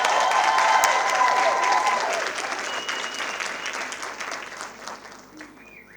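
An audience at a panel discussion on women in media and communications claps loudly, steady applause that slowly fades out over several seconds.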